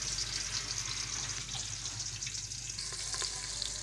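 Onions frying in ghee, giving a steady, dense sizzle with a bright hiss, even and continuous throughout, with faint stirring clicks near the end.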